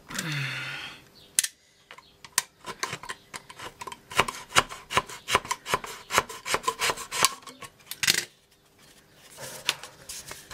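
A large utility knife shaves and scrapes a rounded shape, producing a series of sharp, close scraping strokes and clicks in an irregular rhythm, moderately loud and with no voices.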